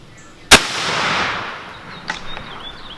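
A single loud, sharp blast from a shotgun firing a slug outdoors, with a long echoing decay and a couple of faint clicks afterward.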